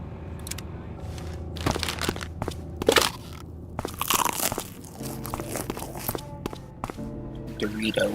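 Doritos tortilla chips crunched and chewed up close in repeated bursts, loud crisp crackles scattered through the clip over a low steady background hum.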